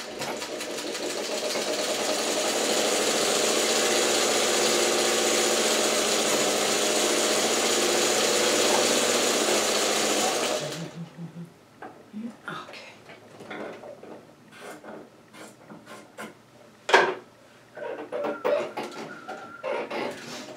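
A sewing machine stitching fabric strips for a quilt block hums steadily at close range for about ten seconds, then stops, followed by scattered clicks, rustles and handling noises.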